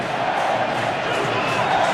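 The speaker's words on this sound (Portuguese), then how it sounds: "A torcida do 15 agora enlouquece aqui no Barão." XV fans roar wildly at the Barão stadium during a football match, a dense, loud crowd cheer sustained throughout without a break.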